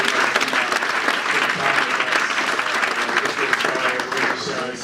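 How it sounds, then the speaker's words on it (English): Dense, sustained applause from a crowd at a company launch event, loud and continuous throughout, with voices mixed into the clapping. "Let's give yourselves a round of applause."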